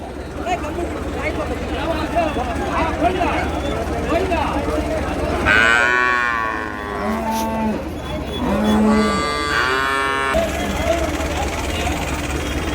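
Several deep, drawn-out cow moos sound close by at a cattle market in Madrapalli, Tirupattur, one after another, over a noisy background of chatter and low rumble.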